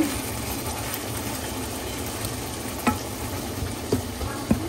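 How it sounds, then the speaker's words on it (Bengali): Rice fries in a pan with spices while it is stirred, a steady sizzling hiss broken by a few scraping stirring strokes near the end, with no talking. "আস্তে চাল দিয়ে মশলার সাথে কষাবো।"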